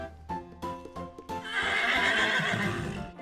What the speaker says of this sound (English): It sounded like a horse neighing.